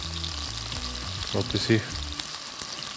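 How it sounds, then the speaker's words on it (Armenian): Chicken breast fries on all sides in a pan, a steady close sizzle with a brief spoken word cutting in midway. "Հավասարաչափ բոլոր կողմերից կրծքամիսը անպայման տապակում ենք"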